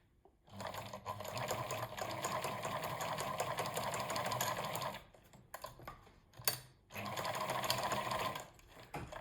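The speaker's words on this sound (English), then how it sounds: "you then sew all the way around" A sewing machine stitches a fabric face covering at close range. It runs in a steady mechanical whir that stops briefly twice and then starts again.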